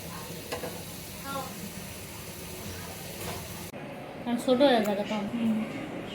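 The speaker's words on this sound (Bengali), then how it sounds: "চিংড়ি মাছটাও ভাজবো চুলায়" Oil sizzles and crackles steadily as shrimp fry in a pan, with a stirring scrape and a person talking over it; the sizzle grows louder near the end.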